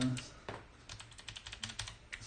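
Clicky keys on a grimy vintage Space Invaders keyboard with a thick cable, pressed in a quick irregular run of sharp clacks, close and fairly quiet, no voices.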